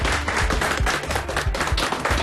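Clapping in a comedy TV serial scene: a dense, steady patter of hands that runs loud and unbroken for about two seconds over a low, tonal background.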